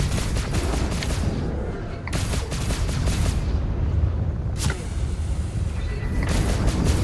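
Spaceship under fire in the Star Citizen Arena Commander space combat game, with loud continuous rapid gunfire and heavy booming impacts, several sharp cracks standing out over a constant roar.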